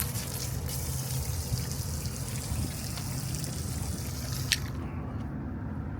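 Steady stream of water running into a 26-gallon RV fresh water tank from a truck stop fill station off the interstate in Colorado Springs, a continuous close trickling rush that carries on alone with no talk.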